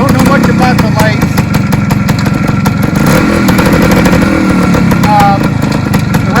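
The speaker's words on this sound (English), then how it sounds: "Bike seems to run nice, idle's nice." A 1975 Suzuki TS 185 Enduro motorcycle idles steadily and loud up close, its engine running continuously with a rattly, even beat while someone talks over it.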